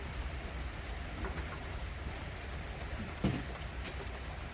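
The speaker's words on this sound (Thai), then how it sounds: "บรรยากาศเย็นๆนี่ฝนตก" Steady rain falls outdoors in a cool setting during a meal, a constant soft hiss of drops with a couple of brief sharper taps, fairly quiet and without voices.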